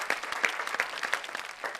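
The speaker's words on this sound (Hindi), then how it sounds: "आप जरा इनके लिए तालियां वालियां बजाइए भाई।" Audience clapping at a Hindi shayari and ghazal show, a brief, bright burst of scattered hand claps from a modest crowd.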